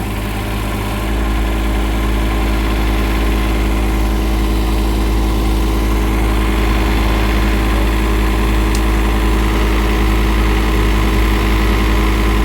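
Diesel engine of a drilling rig working a boring job along a roadside, running steady and loud throughout with a constant low rumble and no talking.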